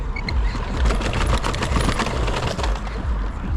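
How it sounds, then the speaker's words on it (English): Motorcycle riding through Los Angeles, its whole body rattling with a steady, dense mechanical clatter and buzz close to the rider throughout. "the whole bike is just rattling and making noise"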